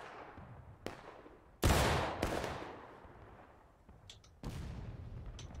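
Volleys of musket and cannon fire in a Civil War battle video game at School House Ridge, with sharp loud reports at intervals and distant crackling between them.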